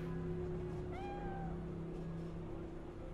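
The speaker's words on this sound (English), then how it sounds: "Cat, I heard you. I heard I can pet you." A cat in the game Cyberpunk 2077 gives one short rising meow with a falling tail, moderately clear above a steady droning game ambience and hum.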